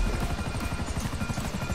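A Buzzard helicopter in GTA V Online, its rotor beating in a fast, steady chop close by, loud and continuous with no talk over it.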